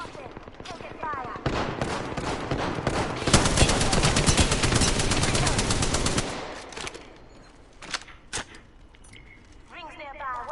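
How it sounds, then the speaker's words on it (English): Rapid automatic gunfire rattles through a video game firefight, a dense, loud burst of shots lasting several seconds, then scattered single shots; voices talk during it. "spotted. Taking fire."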